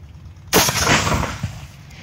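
A single rifle shot fired at a target during target practice, one sharp loud crack with a short rumbling decay, alone and close.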